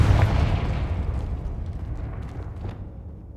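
Confringo blasting spell explosions in the Hogwarts Legacy video game on PS5: a heavy boom at the start, followed by a decaying rumbling tail and a few fainter crackling bursts, with no talk.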